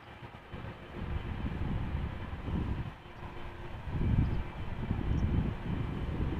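A KLM Boeing 777-300ER jet airliner at Schiphol produces a low rumbling roar in pulsing surges, moderately loud and steady with no talking.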